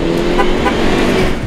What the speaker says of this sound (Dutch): Meteen toeteren.